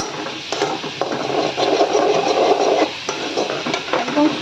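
Meat frying in a pan on a home stove while being stirred, with steady sizzling broken by frequent scraping and clinking strokes of a spoon against the pan, close and moderately loud throughout.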